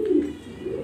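Black pigeons coo in a short, low, throaty phrase up close, a steady soft burble that swells briefly at the start and again near the end.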